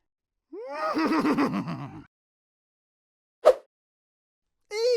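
A horse neighs once in a loud, quavering whinny lasting over a second, then a short snort and the start of another call.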